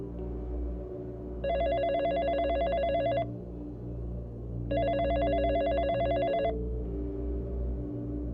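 A landline telephone bell rings in two long bursts separated by a pause, clear and fairly close, over a low steady background hum.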